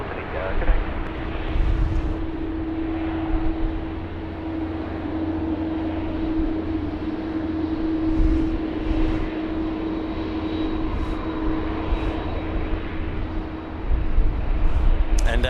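Qantas 81 airliner bound for Singapore at Sydney Airport, a steady distant jet engine roar with wind noise throughout, with a voice talking over it at times.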